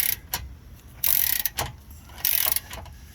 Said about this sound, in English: So I'm just going to turn this bolt till I get this nut here completely loose.